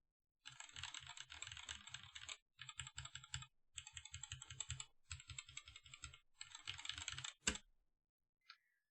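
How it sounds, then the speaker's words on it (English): Rapid typing on a mechanical keyboard fitted with Hyperglide Black switches, delivered as bursts of dense, clacky keystrokes separated by brief pauses, close and clear with no talking, ending on a single sharp click. "here are the Hyperglide Blacks,"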